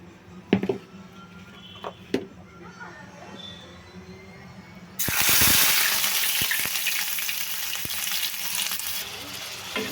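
Chopped onions for mutton brain gravy go into a hot pan: a few knocks and clicks, then a sudden loud, steady sizzle that carries on close by.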